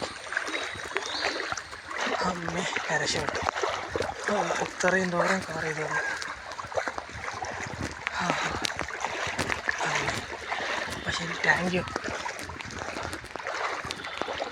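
Splashing, sloshing steps of someone wading through a flooded stream that has overflowed its banks, on a long trek on foot near Adivaram, Kozhikode. The steady water noise runs under someone talking throughout.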